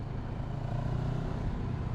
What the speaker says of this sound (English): There's a lovely burble from the exhaust as well,